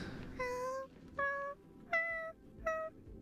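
A cat creature in Honkai: Star Rail meows four times, each call short, clear and rising, spaced evenly with brief pauses between them and no other sounds.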